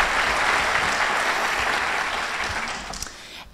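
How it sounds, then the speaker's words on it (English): Audience applause fills a business awards ceremony for a chamber of commerce's small business of the year honors, a steady, dense clapping that holds strong and then gradually thins out toward the end. "big round of applause for my faves"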